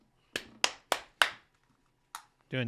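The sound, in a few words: podcast hosts clapping and applauding themselves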